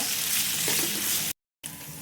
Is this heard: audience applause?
no